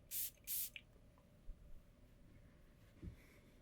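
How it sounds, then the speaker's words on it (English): Bharara Cairo perfume is sprayed onto the skin of a hand in two quick, close, hissing bursts, followed by a fainter third puff and then near silence. "That's just 3 sprays."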